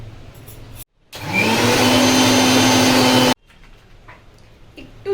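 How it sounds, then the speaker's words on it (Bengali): An electric blender whirs up with a rising whine and then roars loudly and steadily for about two seconds while blending coriander green chutney, with quieter kitchen clatter before and after. "আমি আবার এখন ব্লেন্ড করবো।"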